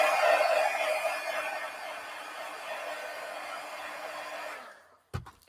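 A hair dryer blows on wet paint in a mixed media art journal, a loud steady whoosh that runs for about five seconds, then cuts off, followed by a short knock.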